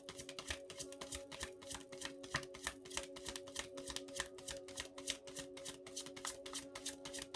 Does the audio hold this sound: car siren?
no